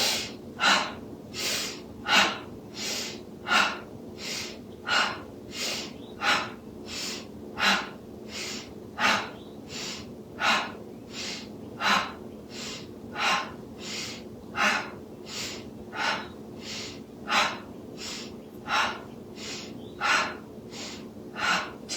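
Steady rhythmic yoga breathing, each breath in through the nose and out through the mouth, repeating in an even cycle of about one breath a second. The breaths are close and clear, with no talking over them.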